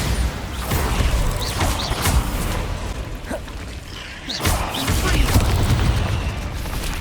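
Explosion and blasting spells crack and boom in the Hogwarts Legacy video game during a dragon fight, dense repeated thuds over a loud rumbling battle bed, with a voice shouting spell names through it.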